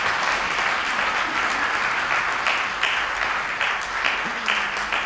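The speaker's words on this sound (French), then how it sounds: "j'aimerais bien qu'on l'applaudisse très très fort." Steady applause from a sizable crowd, dense and continuous for the whole stretch with no voices standing out.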